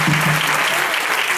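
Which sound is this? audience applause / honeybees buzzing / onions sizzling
audience applause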